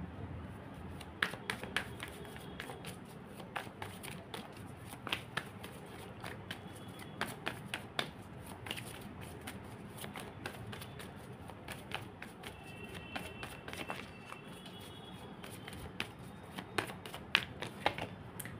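Tarot cards handled and shuffled continuously at close range, making steady soft rustling with frequent crisp taps and snaps throughout, with no voice.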